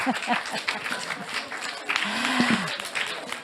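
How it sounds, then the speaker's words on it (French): An audience at a Japanese-themed evening gathering claps at the close of the night, uneven scattered applause with voices and a brief murmur mixed in. "je crois qu'on peut s'applaudir les uns les autres pour la soirée"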